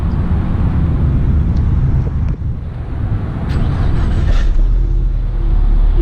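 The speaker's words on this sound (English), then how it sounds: "we're gonna get a sound of the 2015 EcoBoost" A 2015 Ford Mustang EcoBoost with its turbocharged engine drones low and steady while driving, heard from inside the car under heavy wind and road rumble, with a faint higher whistle partway through.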